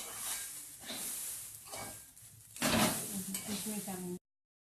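Soaked rice is stirred in hot oil with bay leaves and dried red chillies for Bengali basanti pulao, giving bursts of sizzling hiss and scraping from the spoon in the pan, with a louder surge near the end before silence.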